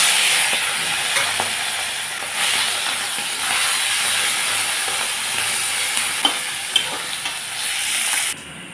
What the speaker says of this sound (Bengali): আমি মাছগুলোকে ছেড়ে দিচ্ছি।